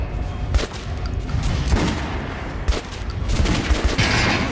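Gunfire at a training dummy in the Metro Last Light Redux video game: a steady run of sharp, loud single shots, roughly one every second, over a dense background din.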